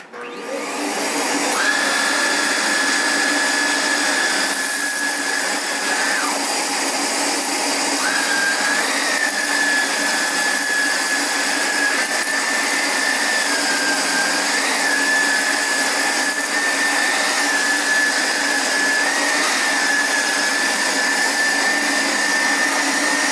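A Hoover SH40090 Vax Air Revolve Pet vacuum cleaner runs continuously and loudly, a steady whining motor tone with a slight pitch dip or two as it is pushed over a mess, with no talking.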